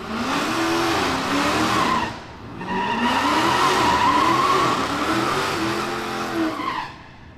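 A Mexican GTR street car at a street racing event rolls past loudly, its engine note rising and sweeping with a brief dip midway, close and continuous with no talk over it.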